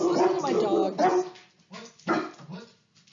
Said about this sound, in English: Let's listen to my dogs.